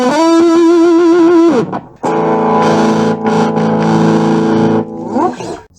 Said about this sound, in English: It sounds really good and does give you that nice saturated, distorted feeling that tubes are supposed to give you.